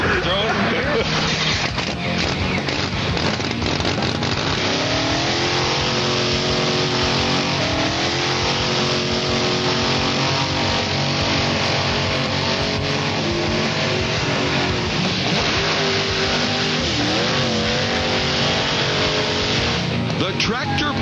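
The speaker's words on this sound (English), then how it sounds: "The tractor pull is hitched to a Trans Am, and Body Drop adds some extra weight." A Trans Am's engine roars hard and continuously while hauling a tractor pull sled with extra weight on board, a dense loud drone with voices talking over it throughout.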